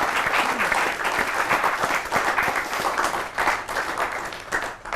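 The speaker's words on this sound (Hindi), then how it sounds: "एक बार जोरदार तालियों से स्वागत करता हूं मैं आपके बीच में" An audience at a Holi poetry gathering on a televised stage gives a loud, continuous round of applause to welcome a poet, with crowd noise and faint voices mixed in.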